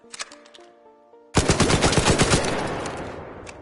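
Rattler gun in Arc Raiders fires a rapid, steady automatic burst, loud and close, after a brief stretch of softer clicks and tones; the shots run together for over two seconds before trailing off.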